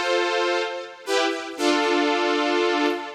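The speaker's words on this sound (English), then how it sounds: "which gives you a really classic brassy sound" Brassy sustained tones from the Synth1 software synthesizer, three held notes that each swell in with a bright buzzy attack and shift pitch, loud and clean with no voice.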